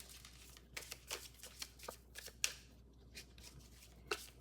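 Tarot cards are shuffled for a reading, a faint series of soft riffling flicks and slaps in an irregular rhythm, close and quiet with no talk.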